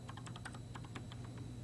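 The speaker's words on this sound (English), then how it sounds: "We're typing this in right here" Quick, light keystrokes on a mid-1990s computer keyboard as a web address is entered, a brisk irregular patter of clicks over a steady low background hum, with no voices.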